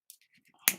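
Scissors snip off pieces of a handmade paper flower's petals, giving one short, sharp, close-up cut that follows a few faint, soft rustles.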